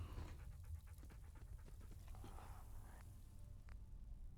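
A dog companion in Fallout 4: London pants quickly and rhythmically close by, quiet and alone, with a few soft footsteps.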